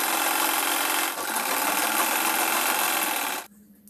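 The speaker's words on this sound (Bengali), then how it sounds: "এরকমভাবে পুরোটা আমি সেলাই করে নেব।" A sewing machine runs continuously stitching a folded petticoat seam, a steady fast whirring with a brief dip partway, then stopping abruptly near the end.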